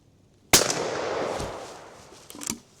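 A single loud, close shotgun blast from a Blaser FBX over-under fired from the bottom barrel outdoors, with a sharp crack followed by a long decaying boom and a small noise near the end.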